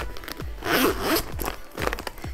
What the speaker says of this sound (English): This back zipper works pretty good.